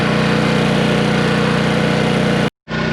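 A Honda engine runs loud and close with a steady, throbbing idle, briefly cutting out near the end before the sound returns.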